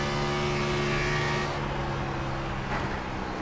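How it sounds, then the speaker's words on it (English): NASCAR Cup race car engine in a sim racing game at Charlotte Motor Speedway, a loud continuous motor drone with steady harmonic tones, the throttle easing and swelling as the pitch shifts midway, no talking. "you can hear as well just how much they're having to play with the throttle"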